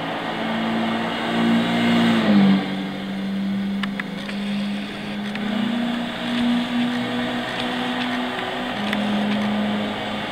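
A Scion FR-S with a 2.0-litre 16-valve direct-injection engine in Gran Turismo 6 hums loudly and steadily, briefly dipping around a gear change before settling back into an even, sustained drone.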